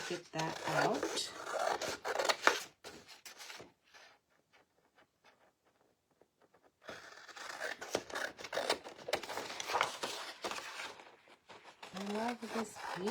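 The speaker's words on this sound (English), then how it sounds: "I'm going to go ahead and just clip with scissors first." Crisp snipping and rasping of scissors cutting through paper in bursts, with a quiet pause in the middle, close to the listener.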